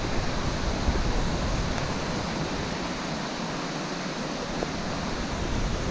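A stream flowing strongly beside a hiking trail on the Old Loggers Path, a steady broad rush of water that stays close and constant throughout, with no voices.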